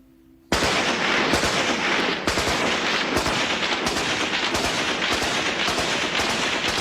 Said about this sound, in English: these days the tribesmen use their firearms the way we use fireworks